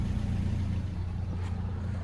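A 2000 Nissan Frontier XE King Cab with a 2.4-litre four-cylinder engine, heard idling at the tailpipe as a steady, loud, close low rumble with no talking.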